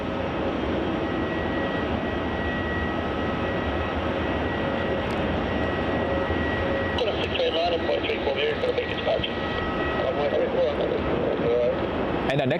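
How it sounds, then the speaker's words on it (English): A Virgin Australia airliner, flight VA814 from Sydney, lands at Melbourne Airport with a steady, loud engine roar and wind rumble, and a voice talks over it. "VA814 landing from Sydney."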